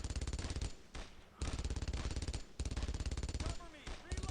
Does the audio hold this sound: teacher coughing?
no